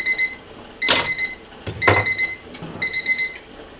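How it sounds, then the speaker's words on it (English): A kitchen timer goes off during water bath canning of strawberry preserves, beeping in repeated short pairs of shrill tones with a few clattering knocks between them. "my timer's going to go off here shortly"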